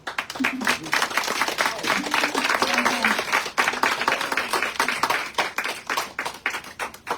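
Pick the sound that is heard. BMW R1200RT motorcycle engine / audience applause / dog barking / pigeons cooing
audience applause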